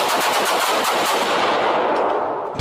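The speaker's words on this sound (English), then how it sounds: "Gun." A loud, rapid burst of automatic machine-gun fire rattles continuously in a dense stream of shots, easing off slightly just before the end.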